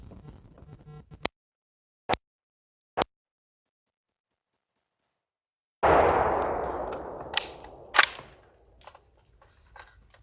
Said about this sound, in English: So we're gonna do the same thing, just kind of run a couple rounds through it, and then do like a controllability thing.